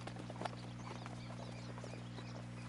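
Horse hooves clip-clopping in the video game Red Dead Redemption 2, a quiet, steady patter of hoofbeats over a constant low hum.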